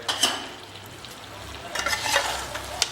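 Mutton curry meat frying in ghee, a Mewari laal maas from Udaipur, with a steady sizzle and louder bursts of stirring scraping the pan, close and with no talking.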